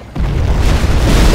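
A nuclear missile detonates in the real-time strategy game Command & Conquer Generals with the Shockwave mod, a deep rumbling boom that swells abruptly and then sustains as a loud, continuous roar.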